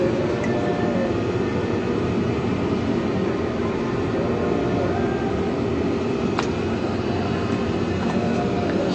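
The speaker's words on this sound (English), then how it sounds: "As you can see, we're right by the train." The Durango and Silverton train produces a loud, steady rumble nearby that holds constant throughout without breaks.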